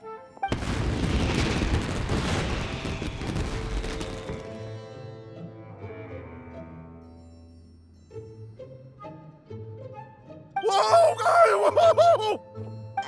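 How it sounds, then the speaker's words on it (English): Fireworks bursting in the video game Genshin Impact: a loud rumbling blast at the start fades out, then a second cluster of sharp crackling pops and whistles erupts near the end, with game music underneath. "Yoimiya, this is turning into a bit of a fireworks display"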